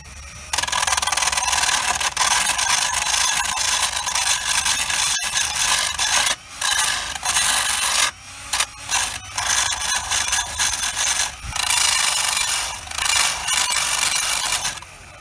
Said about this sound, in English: To sand these down, we're going to use the 3-inch Norton Blaze sanding disc.